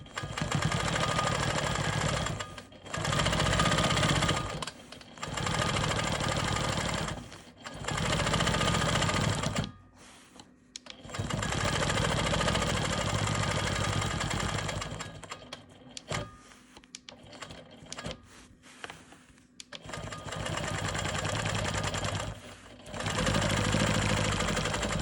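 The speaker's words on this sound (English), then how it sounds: "I'm going to start by stabilizing this block, and I'm doing that by stitching in the ditch all the way around the perimeter" A sewing machine stitches in the ditch around the edge of a pieced quilt block, running in steady rapid bursts of several seconds each, separated by short pauses as the fabric is turned.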